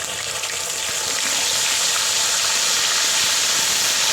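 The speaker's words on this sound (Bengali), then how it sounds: "এই যে আমি পেঁয়াজ বাটাটা দিয়ে দিলাম।" Onion paste hits hot oil in a wok, producing a loud, steady hiss of sizzling steam that swells slightly over a few seconds, with no one talking.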